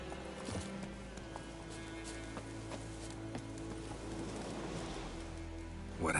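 Horse hooves clip-clopping at a running pace in The Witcher 3, faint and steady beneath a low ambient game soundscape with a brief louder burst at the end.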